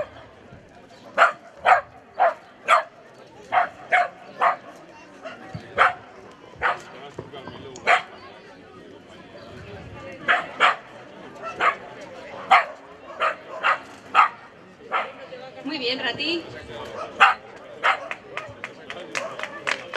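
A dog performing tricks at a newly opened dog park in Cascante, jumping and weaving through a handler's legs, barks and yips in quick repeated bursts throughout, with people talking faintly in the background.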